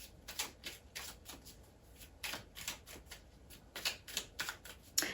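Tarot cards are shuffled close up, a run of soft rapid riffling bursts and flutters in uneven rhythm, fairly quiet, with no voice.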